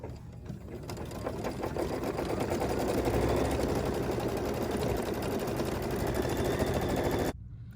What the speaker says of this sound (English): The machine finished stitching that beautiful turquoise satin stitch